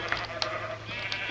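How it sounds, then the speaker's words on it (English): A sheep in the video game Minecraft gives a few short, bright bleats over a low steady background hum, close and clear, with no talk. "there's this other sheep that I'm actually gonna let inside the pen"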